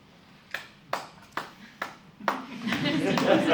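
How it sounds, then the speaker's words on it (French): A single person clapping at a French public forum on biodiversity engagement, five or six separate, fairly close claps at a steady pace, giving way to a denser wash of sound at the end. "je suis le seul à applaudir Christelle"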